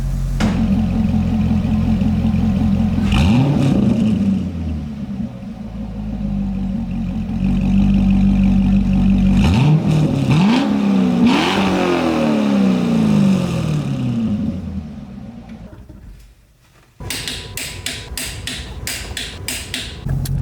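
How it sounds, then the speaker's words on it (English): A car engine with broken motor mounts hums steadily while driving, rising and falling with a few accelerations, before a brief dip and a rattling, clattering change near the end. "I'm driving the car right now."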